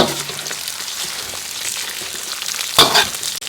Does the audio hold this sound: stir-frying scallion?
yes